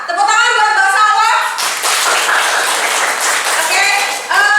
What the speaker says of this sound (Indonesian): Tepuk tangan buat Mbak Salwa.